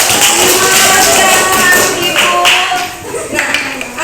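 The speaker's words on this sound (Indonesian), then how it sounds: "Tepuk tangan untuk kelompok" Classroom clapping for a student group, a steady patter of many small hands lasting several seconds, fairly close and even, tapering slightly near the end.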